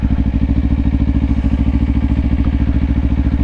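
A 2024 Kawasaki Ninja 500 engine runs steadily up close with a fast, even, throbbing pulse and a deep low rumble. There is no talking.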